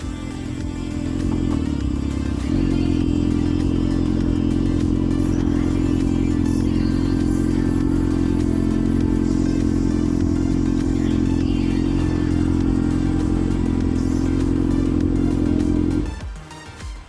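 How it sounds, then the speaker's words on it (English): At a motorcycle gathering on a breakfast run in South Africa, a close motorcycle engine idles loudly and steadily for several seconds, then cuts off near the end. "Where there's a conglomerate of motorcycles gathering."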